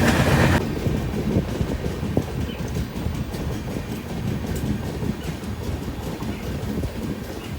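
Indian passenger train on the Rishikesh–Howrah Doon Express route running on the rails, a steady loud rumble with rhythmic clatter of wheels over joints, heard alone.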